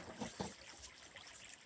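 Water trickles and burbles around bedrock in a creek, making a soft, steady rushing stream with a couple of small splashy gurgles near the start. It is quiet and close, with no voices.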